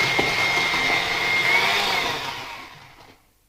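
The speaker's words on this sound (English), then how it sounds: "Let's mix it about 1 minute" An electric mixer whirs steadily through cake batter for plum cake, a close, loud high-pitched motor whine that winds down and fades out toward the end.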